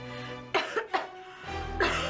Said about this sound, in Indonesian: berisik tau gak sih batuk-batuk di sini?